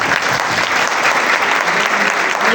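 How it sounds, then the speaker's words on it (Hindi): Loud, dense applause from a large crowd at a church service fills the whole stretch, steady and continuous with no pauses. "जोर से ताली"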